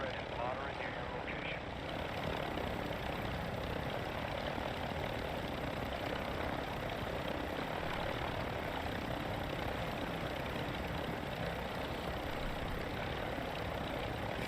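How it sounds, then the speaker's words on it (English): A helicopter in the Call of Duty DMZ video game drones with a continuous rotor and engine roar, steady and moderately loud throughout, mixed with game ambience. "Oh, the heli's still there."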